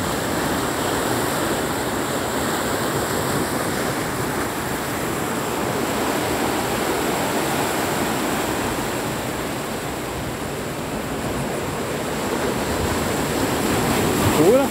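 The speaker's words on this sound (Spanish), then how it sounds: "Ya estamos en mar abierto aquí" Ocean waves on the open sea near an untouched beach, a continuous broad rushing surf with some wind, steady and fairly loud without speech.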